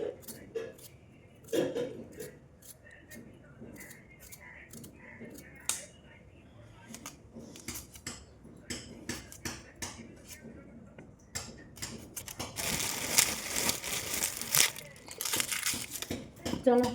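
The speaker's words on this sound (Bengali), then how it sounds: "আলু কুমড়োগুলো কাটছি" Potatoes and pumpkin being cut by hand in a home kitchen, a series of sharp, irregular knife chops and clicks, close and moderately loud, with a denser scraping stretch near the end and quiet surrounding noise.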